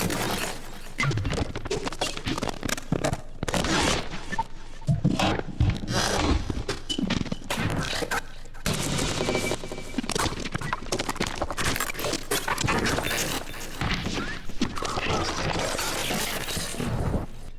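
Granular glitch percussion built from a foley sample at random velocities, a dense, continuous clatter of crackling, shattering hits and clicky transients with uneven loudness throughout.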